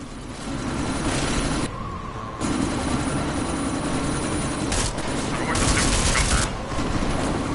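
A helicopter hovers in a sandstorm in the game Deus Ex, its rotor roar loud, close and continuous for the whole stretch, briefly dipping twice, with sharp bursts resembling gunfire mixed into the din.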